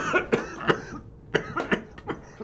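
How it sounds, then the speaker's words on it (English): A person coughs in a quick burst of about six or seven harsh, close coughs, pausing briefly midway, with a strained throat sound at the end. "I got a cough to get off"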